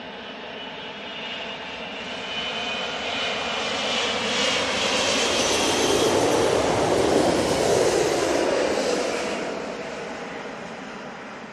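An airliner landing at London Heathrow, its jet roar swelling from a distance to a loud close pass in the middle and then fading slightly, with no voices.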